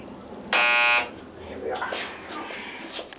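A loud, harsh alarm buzzer sounds once for about half a second inside an elevator in a Lynchburg municipal parking garage, followed by quiet voices.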